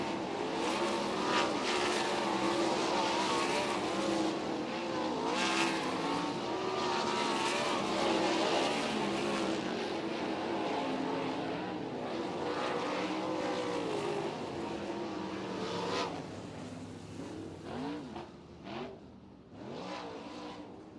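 A 360 sprint car runs hot laps on the East Bay WinterNationals racetrack, its engine a loud continuous roar with rising and falling revving sweeps that thin out toward the end.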